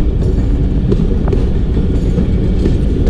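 Heard from on board, the Jaffar Express rolls down the Bolan Pass gradient toward Mach station, a loud, steady rumble of railcars with faint rhythmic clacks and occasional squeaks.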